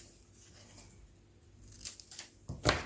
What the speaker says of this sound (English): you can always fold your page in half like this and then cut your tree.